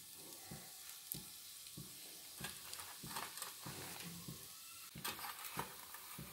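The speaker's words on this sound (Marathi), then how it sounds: "मोहरी तडतडली आहे" Mustard seeds crackle and pop in hot oil while tempering for stuffed brinjal curry, a steady dense sizzle punctuated by repeated sharp snapping bursts, close and fairly loud with no talking.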